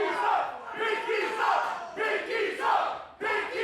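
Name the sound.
wrestling crowd cheering and chanting, split between teams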